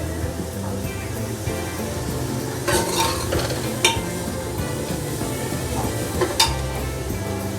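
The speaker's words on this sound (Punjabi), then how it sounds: "ਅਸੀਂ ਇਹਨਾਂ ਨੂੰ ਵਿੱਚ ਵਿੱਚ ਹਲਾਈ ਵੀ ਜਾਣਾ ਹੈ ਜਿਹੜਾ ਸਾਡਾ ਤੜਕਾ ਹੈ ਜੀ ਥੱਲੇ ਨਾ ਲੱਗੇ" A potato and pea tadka is stirred in a hot pan for Punjabi aloo matar, giving a continuous sizzle broken by repeated scrapes and clinks of the spoon, all close and steady.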